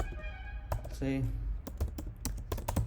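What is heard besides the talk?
typing on a computer keyboard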